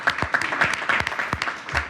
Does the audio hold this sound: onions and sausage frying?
no